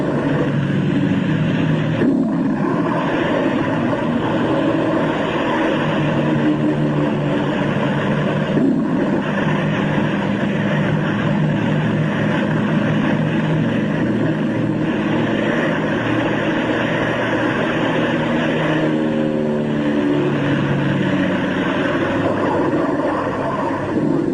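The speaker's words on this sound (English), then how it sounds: "They must risk a takeoff in darkness before the terror of the storm strikes." Propeller planes take off from an aircraft carrier at night, with a steady, loud engine and propeller drone. It rises and shifts in pitch now and then and carries on without pause.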